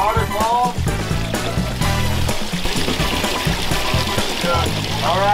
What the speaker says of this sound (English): There she is. First waterfall.